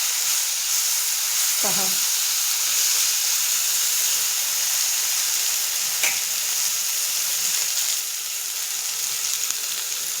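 Ginger, garlic and cumin paste hits hot oil in a home kitchen, giving a loud, steady sizzling hiss with a couple of brief spoon scrapes and a short spoken word.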